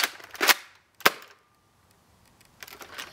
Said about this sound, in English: I'm gonna shoot 2 at an angle.